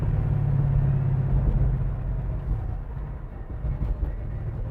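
A 1966 Chevrolet Nova's engine rumbling through its exhaust pipes, a deep, heavy low drone that eases from a louder rev into a steadier idle-like throb.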